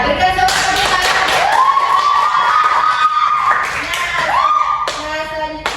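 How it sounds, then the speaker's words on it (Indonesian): Schoolchildren in a classroom peer-teaching lesson clap together, loud and close, in a brisk patterned rhythm while their voices chant along in a sing-song tone throughout. "Ya, berikan tepuk tangan."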